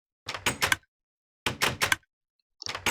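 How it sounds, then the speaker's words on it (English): Video game door opening and closing on a repeating circuit: three bursts of clattering mechanical movement with quiet gaps between, each burst made of several quick knocks, close and clear with no talking. "When you turn this on, it starts a circuit that opens and closes that door"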